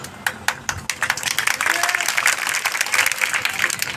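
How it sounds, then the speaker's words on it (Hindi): Applause from an audience at a Bhim Army political speech: a few separate claps at first, then a steady wash of clapping from the crowd at moderate distance, with a voice briefly speaking over it. "आपने ताली बजा दी"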